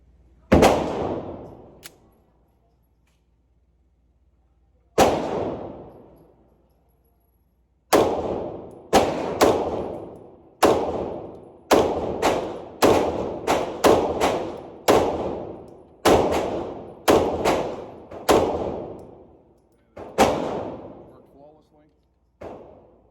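Staccato C2 pistol fired at a target at about seven yards on a range: sharp, loud single shots, two spaced apart early, then a steady run of rapid shots with brief pauses, each ringing briefly.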